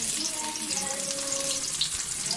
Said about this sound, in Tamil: வெங்காயம் போட்டிருக்கு.